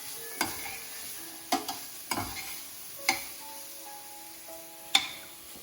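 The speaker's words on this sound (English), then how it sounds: "So the carrot has to be sauteed in this ghee mixture for at least 10 to 15 minutes." Grated carrots sauté in ghee for gajar ka halwa with a low sizzle, and a spoon scrapes and taps the pan in several distinct strokes. No one speaks.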